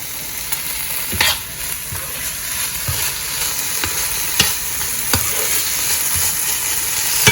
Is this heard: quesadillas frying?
yes